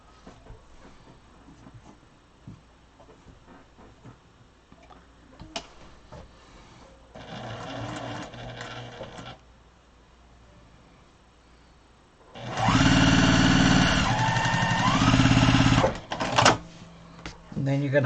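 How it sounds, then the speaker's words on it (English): A sewing machine stitching pieces of a large grocery tote bag: two runs of steady, close mechanical whirring, a short one and then a longer, louder one, with someone talking in between. "And then you're going to sew down on this one."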